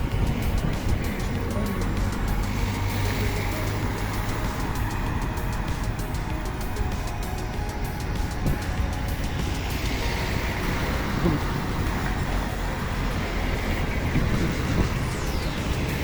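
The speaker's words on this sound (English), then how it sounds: "This part can be quite busy with the traffic" Steady road traffic rumbles past along the Kusadasi shore near the Efe Boutique Hotel, cars passing close by one after another with a continuous engine and tyre wash and no clear voices.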